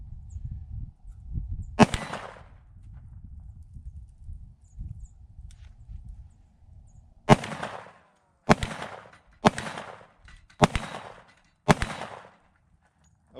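Six sharp gunshots from a Tisas 1911 Night Stalker 10mm pistol: one isolated report, a pause, then five more in quick, slightly uneven succession, each loud and close with a short ringing tail over low rumbling background.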